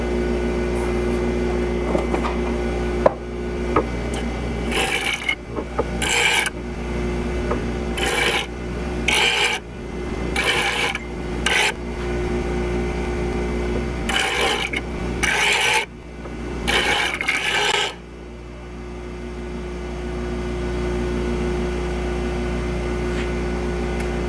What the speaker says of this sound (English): now I'm going to go to the finer grit sanding wheel or grinding wheel